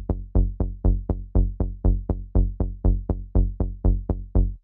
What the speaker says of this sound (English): So we are going to duck the bass both when the kick hits and the clap is